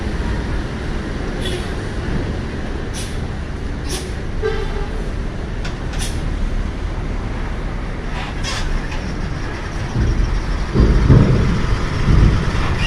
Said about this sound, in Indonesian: Sekarang kita pantau bis-bis yang masuk di dermaga eksekutif.